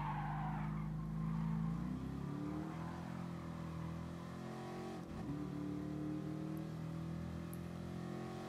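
A race car in Gran Turismo Sport brakes hard into a corner, the engine note dropping from a high drone while tires squeal and skid, followed by a lower engine tone as the car continues through the turn.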